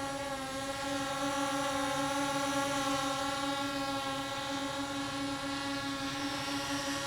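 DEERC D65 camera drone flying in steady straight and level flight, its propellers giving a continuous high-pitched whine with strong steady tones, close and fairly loud, no talking.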